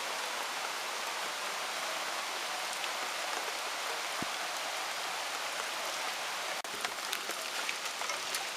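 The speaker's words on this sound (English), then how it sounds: "now it's going to start dumping. It'll be raining good and hard now." Steady, dense rain pours down without a break, a continuous hiss of water hitting surfaces with a few scattered louder drips and taps.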